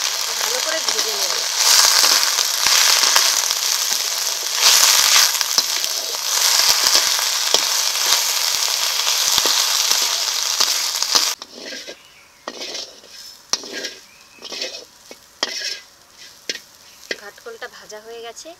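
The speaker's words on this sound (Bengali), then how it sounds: "ঘাটকোলটা ভাজা হয়ে গেছে" Ghatkol (taro stems) fry with green chillies, salt and turmeric in a pan, giving a loud, dense sizzle for about eleven seconds before it cuts out, followed by scattered scraping and clinking of a utensil.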